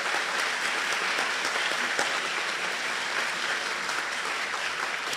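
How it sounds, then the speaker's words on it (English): An audience at a northwoods gubernatorial candidate forum applauds the candidates, a steady wash of many hands clapping at moderate distance, continuous for about five seconds. "So let us applaud their dedication and willingness to join us up north."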